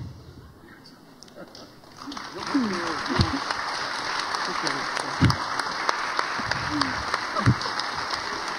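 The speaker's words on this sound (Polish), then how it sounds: "Wielkie brawa." Applause rises from a quiet start after a comic Silesian-dialect stage skit by a rural women's circle at a regional tournament, becoming a dense, sustained clapping while a presenter's voice speaks over it.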